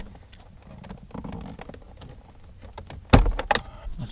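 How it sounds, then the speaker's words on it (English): Clips being pried off the instrument cluster of a Lexus IS F, heard as a quiet run of small plastic taps and rustles followed by one sharp, loud snap and a couple of lighter clicks close by. "I have to take the clips off"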